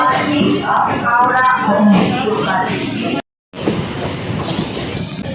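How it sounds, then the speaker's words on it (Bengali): A local train pulling out of Howrah station, its wheels squealing steadily at close range with continuous rumble, briefly cutting out before a long high-pitched screech resumes. "এই যে ট্রেনটা ছেড়ে দিয়েছে।"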